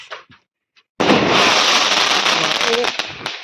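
Rapid Diwali firecracker bursts in a village crackle and pop continuously after a brief quiet start, loud and dense, with voices faintly underneath.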